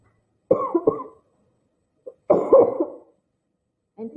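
A teacher coughs during a German lesson at a high school, first a short double cough, then a longer harsh burst a second later, close and loud in an otherwise quiet room, with a brief throat sound at the end.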